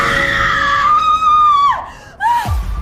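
A woman screams after cold water is thrown across her bed, waking her: a loud, sustained, high-pitched wail that rises, then breaks off and returns as a shorter cry.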